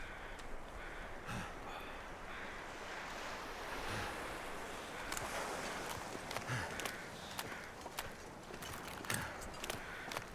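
Strong side wind gusts around a walker outdoors at night, a steady broad rushing roar with occasional soft clicks and knocks mixed in, no talk.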